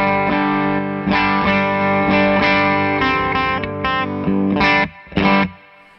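An electric guitar runs through a Cali 76 compressor pedal, playing loud, even, sustained chords and notes with a smooth, squeezed attack, followed by a short gap and a final strummed chord, with no talking.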